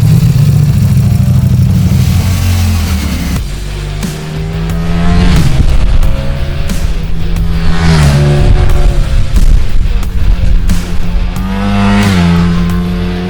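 Ducati Streetfighter V4 S motorcycle screaming around a race track, its V4 engine revving hard through repeated rising and falling gear changes, loud and close throughout.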